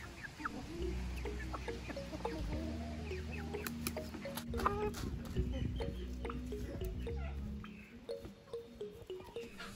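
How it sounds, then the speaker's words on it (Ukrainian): Silkie rooster clucking up close in soft, repeated low notes, with someone talking over it and a steady low hum behind. "Оце півник."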